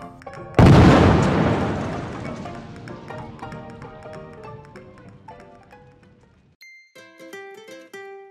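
A cartoon grenade explosion goes off as one loud, close boom that fades out slowly into a tinkling ring, and a short jingly musical cue follows it.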